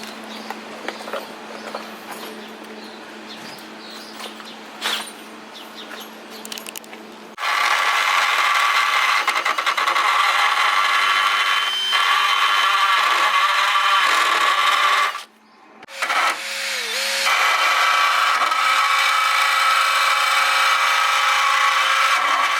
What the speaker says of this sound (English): put the carbide bit on this thing so I can just shave this down a little bit.